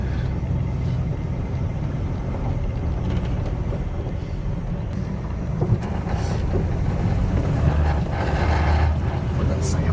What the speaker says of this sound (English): Is that the muffler rattling or something?